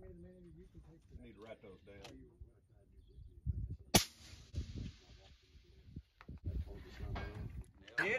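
A Bergara B14 rifle in 6.5 Creedmoor fires at a milk jug target 1000 yards away, one sharp loud crack standing out among voices talking before and after the shot.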